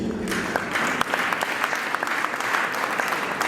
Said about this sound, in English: You either clap or you leave it.